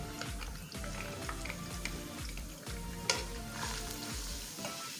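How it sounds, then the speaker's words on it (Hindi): Ginger and garlic sauté in plenty of hot oil in a kadai, a soft continuous sizzle with rhythmic stirring scrapes and one sharper utensil tap, quiet and close with no talking. "तो अब इसमें डाल देंगे जिंजर गार्लिक और उनको थोड़ा सा सौटे कर लेंगे।"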